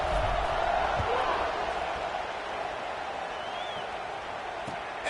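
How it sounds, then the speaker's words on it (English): Home crowd at an American football game roaring steadily through a kickoff, a dense sustained wash of cheering that fades slightly but holds throughout. "You can hear this home crowd going bananas."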